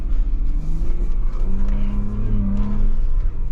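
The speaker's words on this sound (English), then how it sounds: "So at high speeds, you do get a decent amount of wind noise" Constant low rumble and rushing wind noise inside a car moving fast, with the engine droning underneath and no talking.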